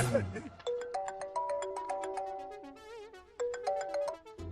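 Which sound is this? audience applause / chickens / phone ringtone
phone ringtone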